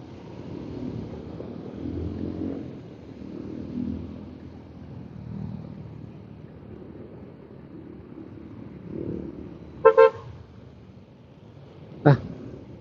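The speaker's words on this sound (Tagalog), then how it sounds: "Very good bumubusina." Someone talks over a low engine rumble, then a vehicle horn gives two quick honks followed by a single short beep.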